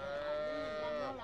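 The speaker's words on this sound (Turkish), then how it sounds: "Buradan bir sürü inek var. İnekler su içmeye gelmiş." Cows gathered to drink at the Ganges riverside in Rishikesh, India, give a single sustained low moo, fairly faint and distant against outdoor background noise.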